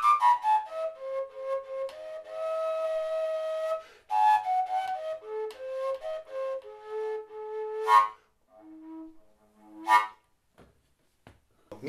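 A koncovka, the Slovak overtone flute without finger holes, set on a tripod, plays a breathy melody of shifting overtone pitches, with sustained notes that leap between registers, broken by short pauses and a few isolated higher tones near the end.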